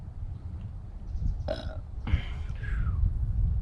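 A man burps loudly twice in quick succession after swallowing raw minnows outdoors, the second belch longer and drawn out, close to the microphone over low background rumble.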